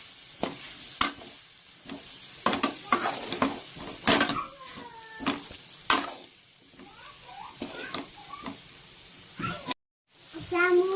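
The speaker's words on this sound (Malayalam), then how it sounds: "ചിക്കനും നമ്മുടെ ഉരുളൻകിഴങ്ങും നമുക്ക് മിക്സ് ചെയ്യാം." Chicken and potato samosa filling being stirred in a pan, with scraping strokes and a soft sizzle in the background while a person talks over it.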